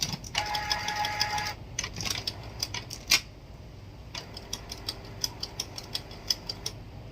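A Canon inkjet printer with a PG810 cartridge whirs and clatters mechanically, with a sharp click, then a steady series of quick ticking steps as the print head moves.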